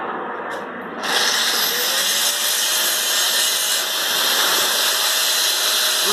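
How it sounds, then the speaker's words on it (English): An angle grinder grinds down a fresh weld with a loud, continuous high whine and grinding hiss that starts abruptly after a second and holds steady, close up with no talk. "I'll grind it down again and we'll do it again."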